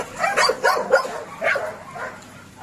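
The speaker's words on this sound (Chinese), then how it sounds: "啊，澳洲牧牛犬。" Australian cattle dog puppies, three to four months old, at a large dog-breeding farm give a quick series of high yips and small barks, close by, bunched into two short bursts.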